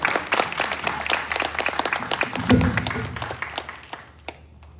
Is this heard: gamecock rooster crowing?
no